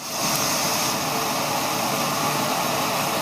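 MSR Micro-Rocket gas camping stove burner lit and roaring, a steady close broadband hiss holding constant throughout with no talk.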